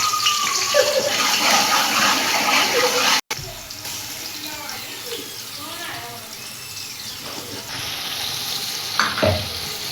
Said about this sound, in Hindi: प्याज और अदरक लहसुन हमने फ्राई कर लिया